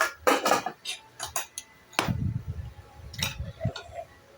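Ladle scoops food during a home mukbang of luncheon meat and egg, with dishes and cutlery clinking in a few sharp bursts close by, followed by softer low thumps and scrapes.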